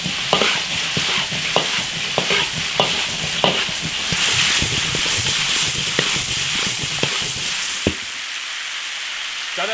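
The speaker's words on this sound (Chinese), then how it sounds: "菌子爆炒1分钟" Pine mushrooms and cured pork with ginger, garlic and dried chili are stir-fried in an iron wok: a loud, hissing sizzle with rhythmic scraping strokes of the spatula, cutting off sharply near the end.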